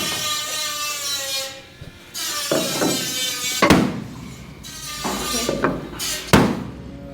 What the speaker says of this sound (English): You want to take one more spot with the big hammer, and we got to knock that spot in right there